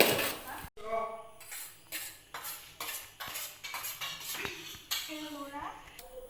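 Egg chow mein being stirred in a pan over a gas flame, a metal utensil scraping and clinking against the pan in repeated rhythmic strokes, close and fairly faint, with a voice talking alongside.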